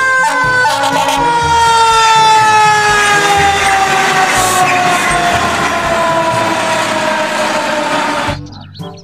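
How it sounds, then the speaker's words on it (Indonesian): A toy fire truck siren wails loudly and steadily with electronic warbling tones, cutting off abruptly near the end. "Yang ini ada mobil pemadam kebakaran."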